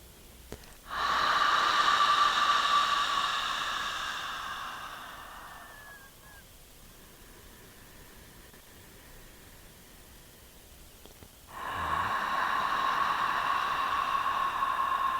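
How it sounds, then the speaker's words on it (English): A person exhales an open-mouthed "ha" with a dropped jaw during yoga breathing, two long breathy, slightly voiced exhalations: one lasting several seconds and fading, then a quiet pause, then another starting strongly near the end. "dropping the jaw and exhaling ha 3 times"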